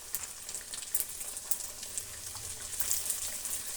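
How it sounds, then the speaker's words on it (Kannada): Black sesame sweet dough pieces deep frying in hot oil, a steady bright hiss and sizzle with fine bubbling crackle that swells slightly toward the end, close by and with no voices. "ಈಗ ಒಂದೊಂದಾಗಿ ನಾವು ಆಯಿಲ್ ಒಳಕ್ಕೆ ಬಿಡೋಣ, ಡೀಪ್ ಫ್ರೈ ಮಾಡ್ಕೊಳ್ಳೋಣ"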